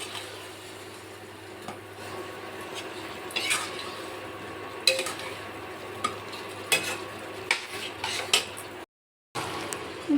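Spice paste of onion, ginger, garlic and chilli frying in a pan, with a steady low sizzle under repeated clinks and scrapes of a spoon stirring against the metal, close and fairly quiet, with a brief gap near the end.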